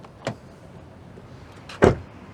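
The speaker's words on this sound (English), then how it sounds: "let's check out the quality of the vehicle by shutting its door." A 2023 Genesis G70 3.3T sedan door slams shut once with a solid, heavy thud, preceded by a lighter latch click, recorded close up in a quiet setting with no talking.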